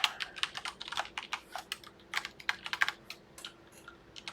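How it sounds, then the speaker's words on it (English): A computer keyboard clicks under steady typing, quick uneven bursts of close, fairly quiet keystrokes with short pauses, no talking. "I hate typing this."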